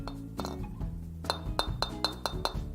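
Bright metallic clinks from light taps on a Baldo golf driver head, several in an irregular series, close and crisp with no talking.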